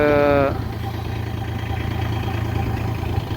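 A tractor-mounted hydraulic crop spray pump runs with a steady low engine drone after a brief higher whine at the start, continuous and fairly close with no clear talk over it.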